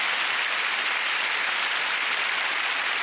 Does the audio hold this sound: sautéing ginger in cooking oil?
no